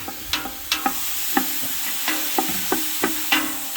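A spoon scrapes and taps repeatedly in a pan as onions fry on medium heat with a soft sizzle, the stirring strokes coming in an irregular rhythm every half second or so.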